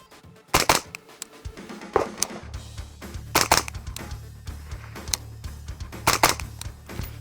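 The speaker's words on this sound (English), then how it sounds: "then we just pull the trigger twice" Rifle shots fired at a target during mount and accuracy practice: several sharp, loud cracks, some in quick pairs, spaced a second or two apart over a low steady hum.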